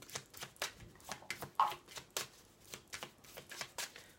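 Oracle des miroirs cards are shuffled close up in a quiet room, a run of crisp, papery riffles and flicks repeating every fraction of a second, with no voices.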